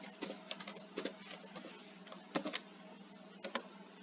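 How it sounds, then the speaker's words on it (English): A computer keyboard clicks softly as a password is typed during a Windows 10 setup, irregular quick taps and short clusters of keystrokes over a low steady hum, with no one speaking. "And type password again."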